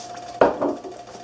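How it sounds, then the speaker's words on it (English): A spoon strikes and scrapes inside a hot pot once while sugar and cornstarch are stirred for lemon meringue pie, a sharp close knock followed by a brief softer scrape. "You want to start stirring this stuff."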